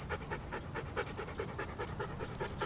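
A Siberian husky pants in quick, steady, rhythmic breaths close by, with a faint high squeak partway through.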